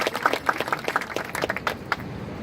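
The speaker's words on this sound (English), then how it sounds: "You can applaud." Crowd applause at the 2018 Toronto Pride flag raising, a short run of separate claps from a modest crowd, loud at first and thinning out toward the end.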